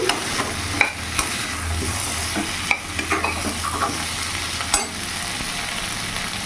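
Chopped tomatoes stirred into a pan of rohu fish curry over a medium gas flame, producing a steady sizzle with repeated scraping stirs and soft clicks of the spoon against the pan.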